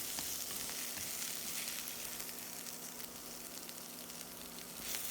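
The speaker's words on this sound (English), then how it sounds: "increase the heat and stir-fry until each cabbage leaf is completely hot." Quiet, steady sizzling of cabbage stir-frying over high heat in a pan, with faint scraping and stirring sounds throughout.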